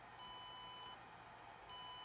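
Walksnail Goggles X sounding a steady high electronic beep during a firmware upgrade, two sustained tones, one starting early and another near the end, clear and alone over a faint background hum.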